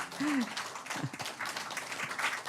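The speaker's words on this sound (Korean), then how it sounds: "감사의 박수를 한번 드리겠습니다" Applause rises from the audience at a Korean women's church mission rally opening worship service, a steady wash of many clapping hands that carries on from start to finish, with a brief voice near the beginning.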